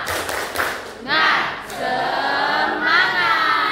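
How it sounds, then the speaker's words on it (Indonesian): A vocational high school class in Palembang does a rhythmic spirit clap together in a classroom: a few loud bursts of crowd clapping mixed with group shouting, close and energetic. "Kalau 4, tepuk semangat."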